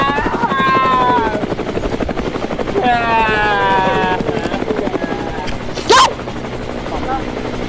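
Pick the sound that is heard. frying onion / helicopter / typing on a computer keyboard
helicopter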